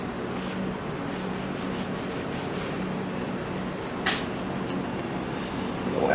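Rag soaked in lacquer thinner wiped across an antique wooden table, a soft, continuous rubbing swish repeated in close strokes, moderately loud with no talking.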